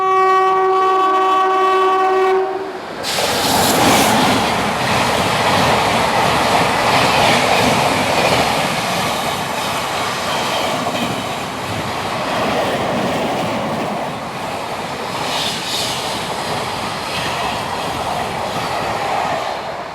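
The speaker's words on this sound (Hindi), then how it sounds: "तो अभी हमारी ट्रेन को ओवरटेक किया है मरुसागर सुपरफास्ट एक्सप्रेस ने अजमेर जंक्शन एर्नाकुलम।" The Marusagar Superfast Express, Ajmer Junction to Ernakulam, overtakes on an Indian railway: a horn sounds briefly, then a loud close rush of passing coaches with steady rumbling and clatter.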